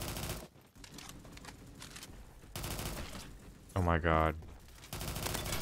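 VCR-2 rifle firing in a video game, bursts of rapid gunfire in several stretches separated by brief pauses, with a voice exclaiming over the shooting.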